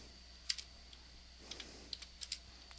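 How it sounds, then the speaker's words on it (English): A computer keyboard clicks in short bursts of a few quick keystrokes, separated by pauses, as Linux commands are typed in a quiet room. The taps are crisp, close and fairly faint. "it's just a matter of typing in a couple of commands to use the persistent part"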